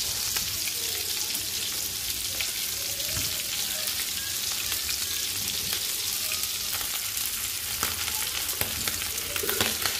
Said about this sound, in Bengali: তো কড়া করে ভেজে নিব।